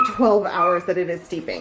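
An old dog whines and yips to be let inside, its high, wavering cries running underneath a person speaking close by for most of the moment.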